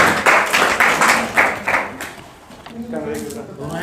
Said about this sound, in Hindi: क्लैपिंग करो भाई, क्लैपिंग करो